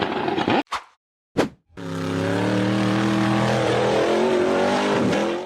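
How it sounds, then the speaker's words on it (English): A red Citroën race car speeding down a snowy road, first two quick engine bursts separated by silence, then a loud sustained high-revving roar that holds steady and cuts off abruptly at the end. "The red Citroën race car was speeding down the snowy road."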